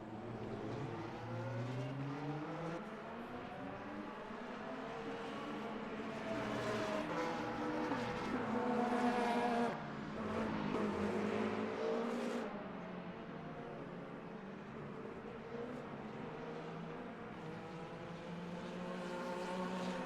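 Race cars lapping the COTA circuit in the Le Mans Ultimate racing game, with GTE-class cars including a Ferrari, give a continuous engine drone that rises and falls through gear changes and swells as cars pass, heard fairly faintly without talk.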